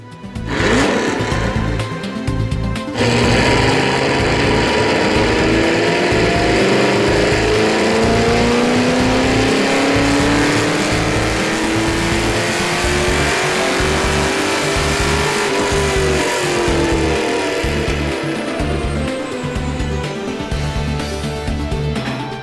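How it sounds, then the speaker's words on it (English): A 2010 Chevrolet Camaro SS V8 fitted with a BBK cold air intake runs on a dyno. The loud, steady engine roar climbs in pitch through a long pull, then eases off. "Let's take a drive on the dyno and see how this cold air induction system makes our SS perform."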